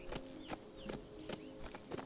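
Horse hooves clop in the HumanitZ video game, a steady series of soft close footfalls in an even walking rhythm, with no talking.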